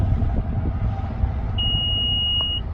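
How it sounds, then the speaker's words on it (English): A single sustained electronic beep from a 2019 Nissan Murano Platinum power rear lift gate confirms the height setting. The clear tone lasts about a second over a low background rumble. "you hold this down till it beeps"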